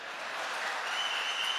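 An audience applauds a speaker at a public speech, a steady wash of many hands clapping that holds evenly throughout, moderately distant, with no voices over it.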